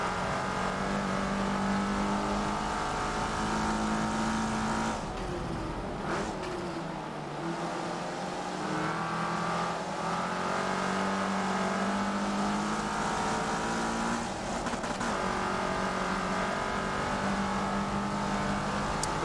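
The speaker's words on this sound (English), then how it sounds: "and now Fear the Fun doing his best impression of Richard Hammond drifting the car across the circuit" Race car engines in the Forza racing game roar continuously on a circuit, loud and sustained with shifting revving pitch as cars accelerate and change gears, a dense layered engine drone throughout.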